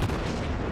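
Warship guns on a German cruiser in World of Warships boom in a brief, dense burst of loud close gunfire with a heavy low rumble, with no voices.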